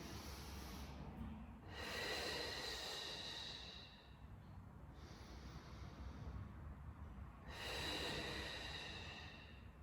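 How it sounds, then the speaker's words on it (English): Slow, deep breaths drawn during a pelvic balance and low back care mat exercise, two loud inhalation swells separated by quieter exhalation and steady background noise, close and with no talking. "Breathing in."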